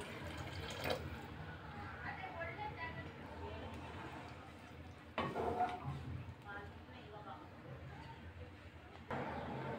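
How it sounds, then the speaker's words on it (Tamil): Horse gram cooking water pours into simmering rasam in a kitchen pan: a continuous splashing liquid fill with stronger surges near the start, middle and end, with faint chatter in the background. "கொள்ளு தண்ணி உள்ளே சேர்த்துடலாம்"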